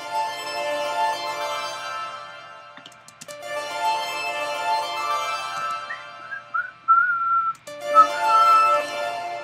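A piercing high-pitched whistle-like tone rings out within a music track, rising above the mix in the second half.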